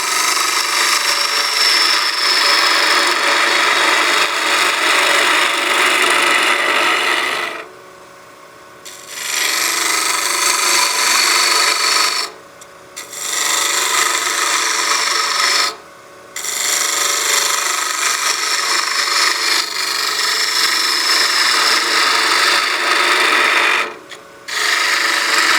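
A gouge on a wood lathe cuts a witch block head, making a sustained bright rasping hiss that runs in long passes, broken by a few short pauses where the tool lifts off the spinning wood.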